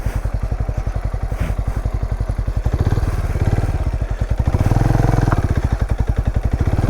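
A Benelli Imperiale 400 motorcycle ridden through a field, its engine thumping in a steady, rapid, loud pulse close by, swelling twice as the throttle opens, with no talking.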